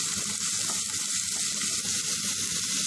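Two finely chopped onions fry in hot sunflower oil in a pan, giving a continuous, even sizzle that holds steady throughout with no voices over it.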